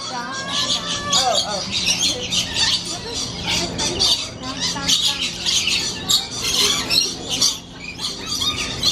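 A loud flock of birds squawks and chatters nonstop at an aquarium in Long Beach, harsh calls piling over each other up close, with a voice speaking faintly underneath and seals in the background.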